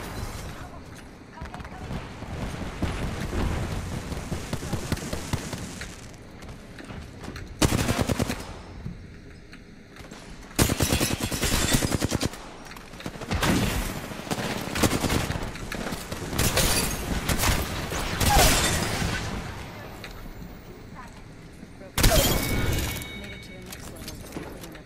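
Automatic gunfire in Apex Legends erupts in repeated long bursts as recoil is controlled, loud and rapid with short pauses between volleys, while a voice talks over parts of it.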